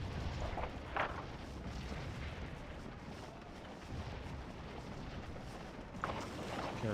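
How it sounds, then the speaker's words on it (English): Cannon fire during the Battle of Stones River in the Scourge of War game: a dense, low, continuous rumble of distant artillery, with sharper booming reports standing out near the start and again near the end. "This artillery should help."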